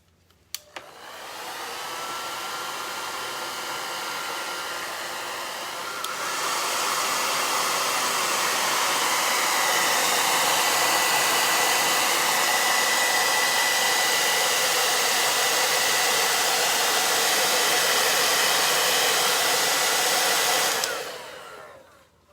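Hair dryer blowing on wet paint for a beach painting, a loud steady whirring rush that rises in strength after a few seconds, runs continuously, then cuts off.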